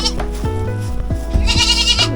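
Goats on a work-camping farm bleat loudly and close by, several overlapping cries packed into about two seconds, with a faint voice in the background.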